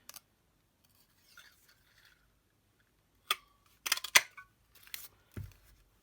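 A handheld paper punch clicks and snaps through card stock in a few sharp, separate bursts, close and fairly loud against an otherwise quiet room.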